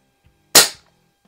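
A single quiet air rifle shot at a splatter-burst target set up across a garage, heard as one short sharp crack with a brief decaying tail and little else around it.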